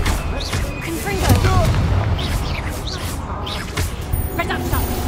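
Confringo spell blasts in the Hogwarts Legacy video game land as deep booms amid chaotic combat, with a voice shouting over the repeated explosions and crackling effects.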